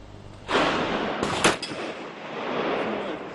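Gunfire cracks out at a sport shooting club's open day in False Bay, South Africa: a loud report followed by a second sharp blast, with lingering rumbling echo across the range.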